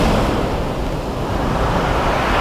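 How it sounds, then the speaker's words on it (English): Fierce waves break and churn on Sandgate Beach during Storm Arwen, a loud, continuous roar of surf mixed with wind buffeting, steady throughout with no talking. "Some of these waves coming in are quite fierce, to be fair."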